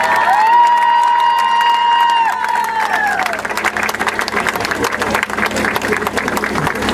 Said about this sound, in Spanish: Y les brindemos un caluroso y fuerte aplauso.